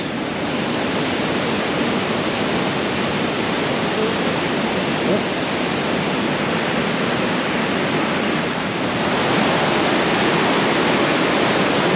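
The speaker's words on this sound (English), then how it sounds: "You can tell from the sound, definitely a waterfall." Calypso Cascades on St. Vrain Creek in the Wild Basin area pours with a loud, steady broadband roar of rushing water, close and unbroken throughout, with no voices over it.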